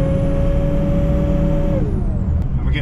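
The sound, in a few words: power steering pump running on 2003 Ford F350 SuperDuty 6.0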